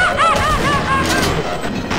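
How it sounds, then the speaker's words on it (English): Rapid machine gun fire in the video game Sven Co-op, a loud, dense burst of shots running continuously under voices and game chatter. "It's a machine gun!"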